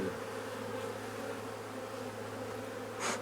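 A honeybee colony hums continuously just after a varroa treatment, a dense, steady drone of many wings, with one bee buzzing louder as it passes close near the end.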